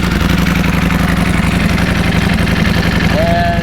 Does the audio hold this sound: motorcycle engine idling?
yes